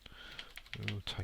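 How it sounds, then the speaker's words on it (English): Computer keyboard typing in a few quick, soft key taps, close but quiet, with someone speaking over them. "We'll type it in there."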